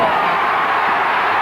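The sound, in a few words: stadium crowd cheering Roscommon equaliser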